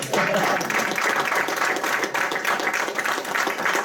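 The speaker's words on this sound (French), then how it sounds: "je vais vous demander s'il vous plaît de l'applaudir très fort" An audience in a Montreal hall applauds a speaker, steady dense clapping that holds at an even level from start to finish with no voices breaking through.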